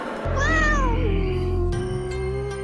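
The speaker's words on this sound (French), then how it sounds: "Un chat." A cat gives a long, drawn-out meow, close and clear, over a low steady hum.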